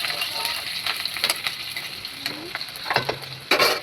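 Onion and panch phoron sizzle steadily in hot oil, a soft continuous frying hiss broken by a few stirring clinks and scrapes, with no speech.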